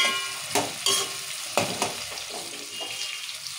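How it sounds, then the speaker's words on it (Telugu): Onions, tomatoes and curry leaves frying in a pan for masala brinjal, a steady close sizzle with several louder bursts as the mixture is stirred, no talking. "సో ఉల్లిగడ్డలు, టమాటాలు, కల్లెమాకు మంచిగా వేగాలి."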